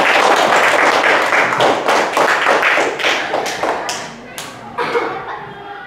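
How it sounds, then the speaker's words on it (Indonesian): Students in a classroom clapping for a classmate, a burst of loud, fairly rhythmic hand claps up close that thins out and trails off toward the end. "Tepuk tangan dulu buat temennya."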